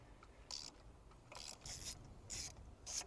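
A socket wrench ratchets on a spark plug in a Honda Accord 3.5L V6, sounding as several short, close clicking bursts separated by brief pauses.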